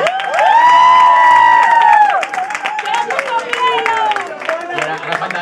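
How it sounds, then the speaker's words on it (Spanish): Cheering, whooping and shouting from a concert crowd at a rock show, with loud sustained yells up front over a bed of clapping that carries on as the voices break up. "otro grandísimo aplauso para"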